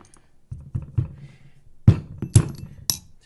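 A firing pin retaining pin being removed from a rifle bolt carrier group, a series of small hard clicks and taps on metal parts, close and sparse against near silence.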